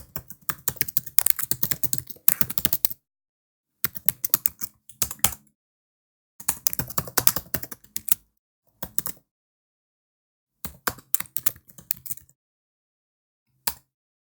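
Someone types an Instagram caption on a computer keyboard, producing bursts of rapid close clicking separated by short silent pauses.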